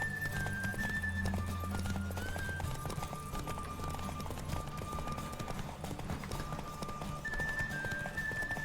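Rapid clip-clop of galloping hooves in a horse race in The Witcher 3: Wild Hunt runs continuously, with a horse's whinny and bright tonal game sounds layered over a steady background hum.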